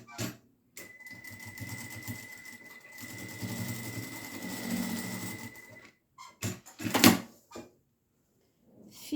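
A sewing machine stitching a fabric flower with a reinforcing backstitch, heard as a steady close mechanical whir for several seconds, then brief stops and a couple of short bursts of stitching.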